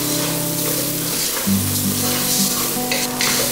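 Vegetables sizzle steadily in a hot pan while being stirred for a home-cooked red beans and rice dish, with a continuous close frying hiss and a low background hum.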